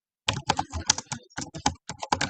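Fingers typing code on a computer keyboard, a quick irregular run of crisp clicks in short bursts with brief pauses, close and clear, no talking.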